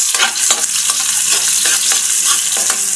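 Onions frying in a hot pan with steady loud sizzling, broken by repeated scraping strokes of a spoon or spatula as they are stirred, with no talking.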